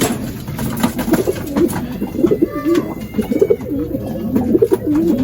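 Racing pigeons coo repeatedly inside a loft, their low, throaty warbles close and overlapping amid wing flutters and shuffling, with no one speaking.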